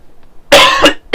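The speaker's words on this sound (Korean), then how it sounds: "기침이 나오네요." A single person coughs close up, one long harsh burst followed by two shorter ones in quick succession.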